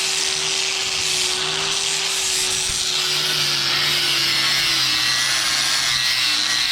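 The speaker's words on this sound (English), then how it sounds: "This is a flap disc on a grinding wheel." Angle grinder fitted with a flap disc cleaning the edges of a steel plate for a welding table: a continuous high whine with a harsh abrasive hiss, steady and close, running without pause and without voices.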